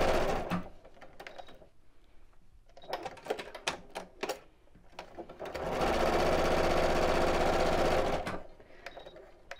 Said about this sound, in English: I'm just going to sew along each side to make those neat.